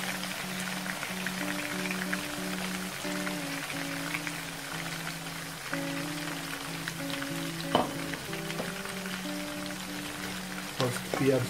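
Onions frying in a pan for a Bangladeshi-style leather jacket fish curry, a steady soft sizzle with occasional louder crackles, under a sustained tonal background of music or hum.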